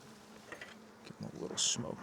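Honey bees crawl over freshly drawn comb in an open hive, a soft buzzing hum with brief crackles and a short sharper burst near the end, faint and close.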